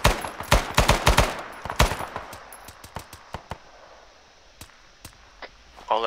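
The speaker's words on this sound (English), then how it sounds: "They're on the path, east. Engage. Fire well." Gunfire in the Arma 3 video game, a cluster of loud sharp shots and short bursts at first, thinning to scattered distant cracks with quiet gaps between.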